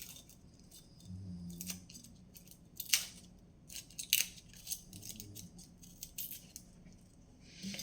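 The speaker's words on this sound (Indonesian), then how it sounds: "Kupas bawang merah putihnya." Shallots and garlic are peeled by hand, heard as faint, close crackles and dry papery snaps of skins with a few sharper clicks scattered over several seconds in a quiet kitchen.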